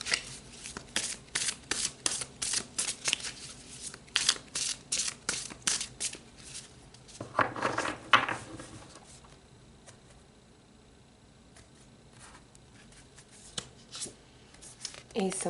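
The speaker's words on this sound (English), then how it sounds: "So let's pull some tarot and go deeper." Tarot cards being shuffled by hand: close, rapid papery flicks and riffles come in quick bursts, with a louder riffle partway through, then the handling fades to quiet with a few soft taps.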